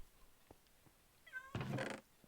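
A single short cat meow from a Minecraft cat in a hardcore-mode game, heard clearly and fairly close over quiet game ambience, followed by a brief burst of broadband noise, with no talking.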